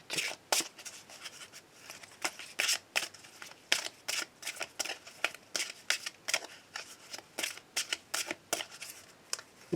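Petit Lenormand cards are shuffled and cut by hand for a daily reading, giving close, crisp bursts of riffling and flicking at an uneven, quick rhythm with short pauses between them. No voice is heard.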